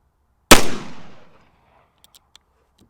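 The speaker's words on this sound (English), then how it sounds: "now we've got the revolver loaded and ready to go once again. All right, here we go again. 5 more shots." A single sharp gunshot from an original Colt Pocket Navy percussion revolver cracks loudly up close, then rings off into a decaying echo, followed by a few faint clicks.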